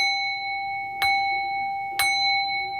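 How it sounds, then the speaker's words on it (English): A small bell rung in a tarot reading setting sounds with clear ringing strikes about a second apart, each bright tone sustaining steadily over a quiet background. "let me ring the bell 3 times"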